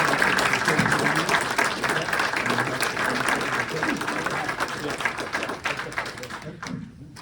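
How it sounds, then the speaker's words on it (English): Audience applause at a faith community gathering, a full round of clapping that holds steady then thins and fades near the end, with some voices mixed in. "Let's give them another round of applause"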